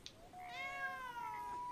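A cat in the Red Dead Redemption 2 video game lets out a single drawn-out meow near a saloon, clear and close with no talking.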